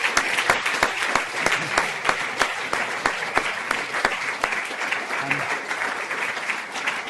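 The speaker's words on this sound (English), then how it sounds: "a final round of applause for a wonderful talk" Sustained audience applause at the close of a talk on skin disease, a dense, even patter of many hands clapping loudly and steadily throughout with no voices over it.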